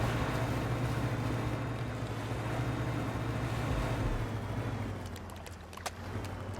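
A fishing boat in the video game DREDGE chugs along with a steady low engine drone under washing water and wind, continuous and close, easing slightly toward the end with a few light clicks.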